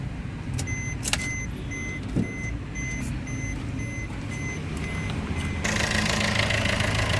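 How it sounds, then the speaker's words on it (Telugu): On a 2016 Maruti Ertiga ZDI, the electric side mirror folds over a steady engine idle, with a short motor whir and repeated electronic beeps before the background grows louder. "mirror folder mirror folding"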